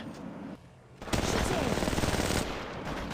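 Rapid automatic gunfire from the mobile video game Apex Legends Mobile rattles in a dense, sustained burst after a short lull, loud and close.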